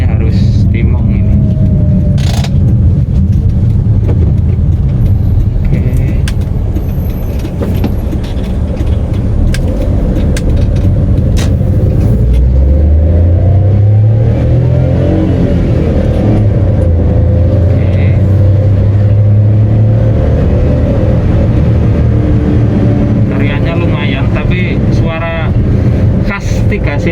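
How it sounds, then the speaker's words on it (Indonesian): Inside the cabin of a 2014 Suzuki Wagon R GS with a manual gearbox, the three-cylinder engine drones loudly and steadily, rising in pitch as it revs midway, with a voice heard over it. "Silindernya itu nampak jelas di kabin ya, raungannya itu ya lucu sih"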